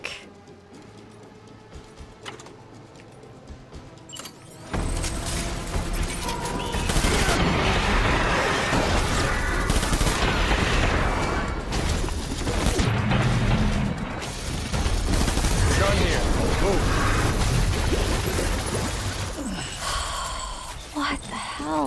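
Heavy gunfire and grenade blasts in the video game Death Stranding: after a quiet opening, dense bursts of rapid shots and crashing impacts erupt and continue loudly, with a player's voice occasionally heard amid the chaos.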